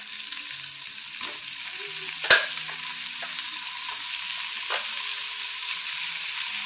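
Prawns fry in a pan with onions, ginger and garlic, giving a steady, close sizzle throughout, broken by a single sharp utensil clack partway and a few soft stirring scrapes.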